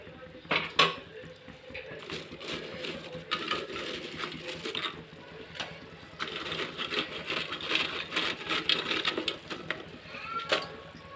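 Bread pieces being tossed and mixed in a bowl with lemon juice, steady scraping and clinking of a utensil against the bowl in a busy, irregular rhythm, fairly quiet and close, with no talk.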